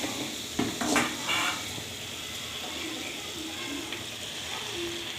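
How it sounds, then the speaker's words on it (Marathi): Hakka noodles fry and get tossed in a pan at home, giving a steady hiss of sizzling with a burst of metallic clatter and stirring near the start. "आता त्याच्यामध्ये आता फायनली नूडल्स चाललेत"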